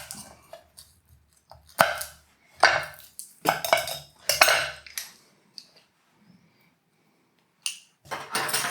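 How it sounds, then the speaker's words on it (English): Crushing and mincing a garlic clove for garlic-infused olive oil, heard as a series of sharp knife-and-board knocks and scraping clatters in short bursts, close up, with quiet pauses between. "So I've got a clove of garlic, so I'll crush that, or mince that."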